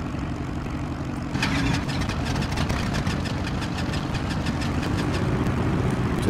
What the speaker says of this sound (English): Two good engine start.